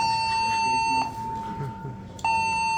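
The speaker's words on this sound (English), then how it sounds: "The alarm your hearing is being investigated." A building alarm at a convention hall sounds as a loud, steady electronic tone, briefly interrupted twice, while a public-address voice speaks over it.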